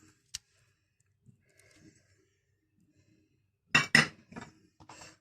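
A utensil turns potatoes, oil and spices together in a pan in a short burst of close metallic scraping and clinks, after scattered faint taps and a single sharp clink in otherwise near silence.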